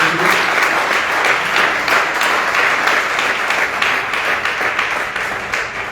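Loud, dense applause from a large audience at a strategic plan launch event, sustained throughout and tapering slightly toward the end.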